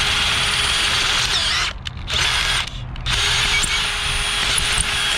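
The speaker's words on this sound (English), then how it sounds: "Just flip this thing over and drill another hole." A power drill whirs loudly, pausing twice briefly before spinning up again close by.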